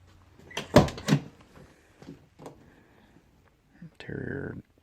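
A replaced door on a Ford OBS truck gives a pair of solid thunks and latch clicks, followed by lighter rattles and a final mechanical clunk, heard close with a little voice in between.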